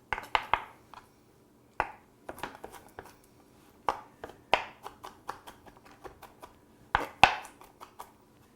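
A knife chopping garlic on a cutting board in a kitchen, a series of sharp close taps coming in irregular bursts with short pauses between, some strokes louder than others, and no talking.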